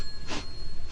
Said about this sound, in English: You were sniffing.